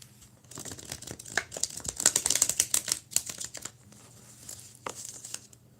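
Old, stiff tarot cards being shuffled and bent by hand up close, a quiet run of crisp flicking, riffling and crinkling bursts that cluster in the middle and trail off, with no talk.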